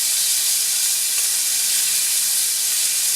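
Boneless brined pork loin chops sizzle in a cast iron pan, a steady bright hiss with no talk over it.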